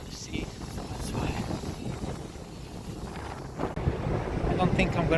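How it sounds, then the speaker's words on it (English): Strong wind buffets the microphone in gusty, rumbling bursts by the sea in England, with a faint wash of sea in the background and no one speaking. "It's really cold though. It's very windy."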